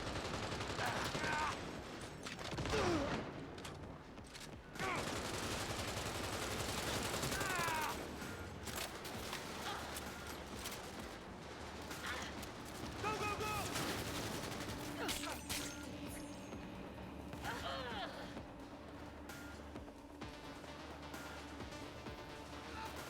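Rapid gunfire in the Cyberpunk 2077 video game, dense bursts and single shots over a continuous busy mix of game effects and music, with voices calling out during the fight.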